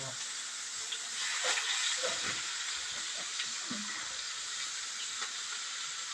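Onions frying in a pan on a gas stove give off a steady soft sizzle and hiss that runs throughout, with a few faint clinks and brief low thumps from the kitchen.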